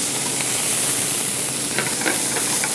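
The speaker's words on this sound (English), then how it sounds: "So once we have our pan nice and hot, we're gonna add our garlic, a little bit of chilies," Onions, garlic and chilies sizzling in a hot restaurant pan, a dense, loud, continuous hiss of frying with a few faint clinks near the end.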